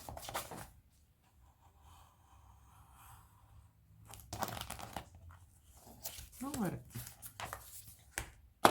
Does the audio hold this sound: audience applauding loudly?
no